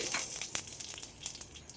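Mustard seeds spluttering and popping in hot oil for a tempering, a dense run of small crackles and sharp pops, steady and close, with no talking.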